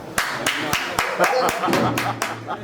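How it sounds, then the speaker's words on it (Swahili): A congregation claps together in a church service, roughly ten sharp, evenly spaced claps ringing out loud and close, with a low hum running underneath. "Nipigie makofi hapo."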